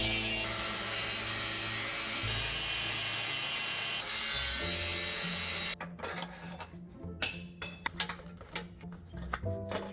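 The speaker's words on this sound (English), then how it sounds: "It's time to just chop this front cross member up" Power tool cutting through the steel front cross member of a first-generation Toyota Sequoia, a loud sustained grinding whine that stops and restarts, then gives way to clanks, scrapes and rattling metal knocks.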